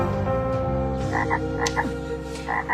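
A cartoon frog croaks repeatedly in a steady rhythm, the croaks loud and close over a layer of background music with no talk.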